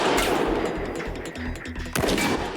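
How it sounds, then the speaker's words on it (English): Gunshots are fired at the gas tank of a Cadillac on an outdoor test range, a rapid string of sharp reports in quick succession with a louder blast near the end, all close and booming. "There's gas in the tank, and the bullets are definitely hitting it."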